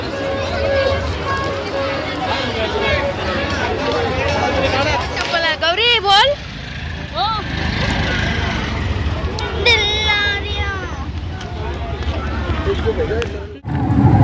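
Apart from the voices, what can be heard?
crowd at a village fair (Mhasa jatra)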